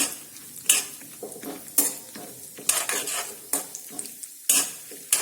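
Cashews and almonds sauté in ghee over a low flame, with a soft sizzle underneath and about five sharp scrapes of a spoon against the pan at a steady rhythm.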